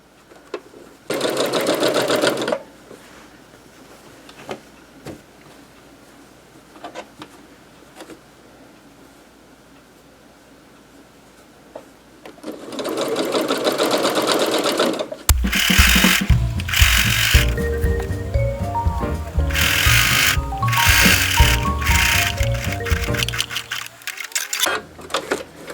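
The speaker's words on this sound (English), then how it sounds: "now we are ready to sew the bottom" A sewing machine stitches the bottom seam of a bag made from napkins, with two short whirring runs early and later a longer run mixed with clicks and handling noises, close and loud.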